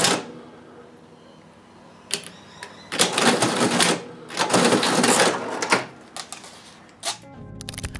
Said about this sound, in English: The register's ringing was synonymous with completed sales